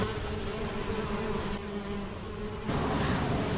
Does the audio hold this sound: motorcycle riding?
no